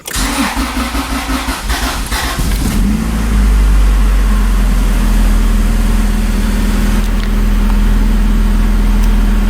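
A Honda B20 VTEC engine, freshly fitted with a new intake manifold and throttle body, cranks for a few seconds, catches, and settles into a loud, steady idle with a deep low hum and no voices.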